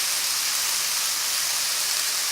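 Garlic and ginger paste sizzles in a little hot oil, a steady, bright, hissing crackle heard close and alone without pause.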